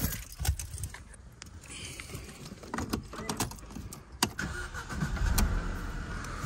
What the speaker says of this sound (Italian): Guardate con quante chiavi tiro io sempre in tasca.